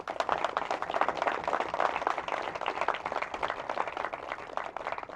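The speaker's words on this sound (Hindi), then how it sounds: "तो मैं चाहता हूं कि नवीन जिंदल जी के लिए एक ज़ोरदार तालियां हो जाएं" Steady, dense applause from a large audience at a lecture on entrepreneurship, continuous clapping at a fairly even level for the whole stretch with no voices over it.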